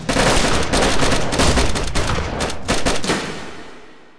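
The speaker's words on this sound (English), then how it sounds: "At the same time on three, shoot up in the air." A rapid, loud volley of gunshots from several players firing into the air at once in the survival video game DayZ, dense and overlapping bursts that thin out and fade toward the end.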